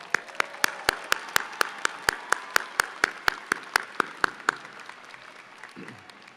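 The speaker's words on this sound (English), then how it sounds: "Let's give them a round of applause." An audience at a spring university convocation applauds master's graduates, with sharp, evenly spaced claps ringing out in a steady rhythm for about five seconds before fading away; heard from a moderate distance in a large hall.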